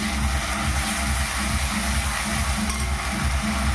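Bay leaves, ginger-garlic paste and ground onion paste sizzle and fry steadily in a pan for mutton curry, with stirring scrapes under a constant broadband hiss and low rumbling.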